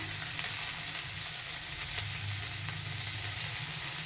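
Chopped beans frying in a pan with curry leaves for a beans tomato curry, giving a steady, even sizzle throughout with faint crackles and no voices.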